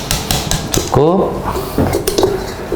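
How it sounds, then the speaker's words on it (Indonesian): Marble cake batter flavored with coffee and tape being stirred in a bowl, with a utensil scraping and clinking against the sides in uneven, close strokes. "Baru kita aduk lagi biar tercampur rata betul ya"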